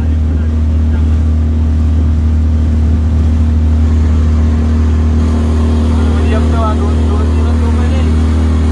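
A large, expensive-looking motorboat passes on the water near Thiruvananthapuram, Kerala, its engine a loud, steady low drone throughout with a brief rising swell near the end.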